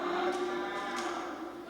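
Cattle lowing in a single sustained moo, loud and close, with a steady droning tone and no voices over it.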